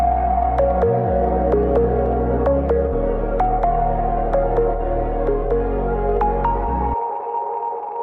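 A synth pluck built from sine waves, run through a Disperser and heavily compressed, plays a steady rhythmic pattern of bright repeated notes over a deep sustained bass, loud and up close, ending abruptly before a brief quiet tail.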